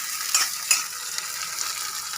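Vegetables sizzling in hot oil as a spatula stirs them toward browning, with two sharp scraping strokes early on over a steady, fairly faint hiss, no voices.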